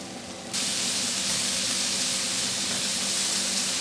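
Button mushrooms hit hot olive oil in a pan and burst into a steady, loud, broad sizzle that starts abruptly and holds without pause. No one talks over it.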